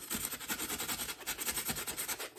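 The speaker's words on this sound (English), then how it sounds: "We're going to just take the big old drill bit, go right in." A large drill bit is twisted by hand into a mannequin head, making a steady, rhythmic rasping scrape that repeats with each turn, close and fairly loud, with no talking.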